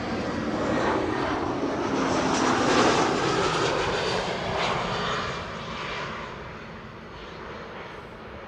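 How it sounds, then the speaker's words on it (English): A Lufthansa Airbus A319 arriving at Amsterdam Schiphol Airport from Frankfurt roars past, a loud, broad jet engine rumble that swells toward the middle and slowly fades, with no voices over it. "Lufty A319 arriving from Frankfurt up next."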